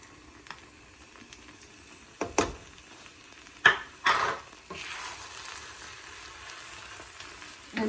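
Tomatoes drop into a hot pan for pav bhaji and sizzle, with scraping stir strokes and a few clanks of the utensil against the pan. Frying continues as a steady hiss, close by and with no talking.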